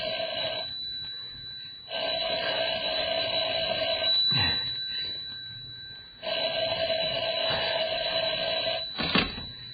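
A telephone bell rings in two long, loud bursts separated by a short pause, with a brief knock or clatter between them and no voices.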